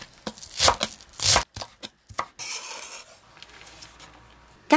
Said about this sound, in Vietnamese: Hành lá thì các bạn cắt khúc phần đầu hành. Cắt nhỏ phần lá để nêm cho thơm ha.